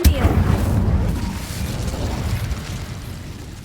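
A fire spell cast in Hogwarts Legacy erupts in a loud, booming burst that rolls into a sustained rumbling roar and slowly fades over a few seconds.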